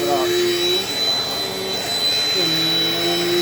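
A Dirt Devil Dynamite Plus vacuum cleaner runs with a loud, steady whine and motor roar, its pitch shifting slightly as it moves, close by and continuous.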